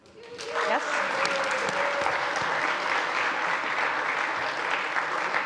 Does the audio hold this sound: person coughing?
no